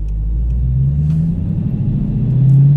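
A Dodge Challenger with a six-speed manual revs in first gear with a deep, close engine rumble whose pitch climbs, dips briefly, then rises again.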